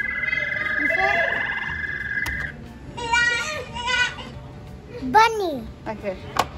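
A frog croaks in several rattling bursts, close and fairly loud, while children talk and play in the background at a children's museum.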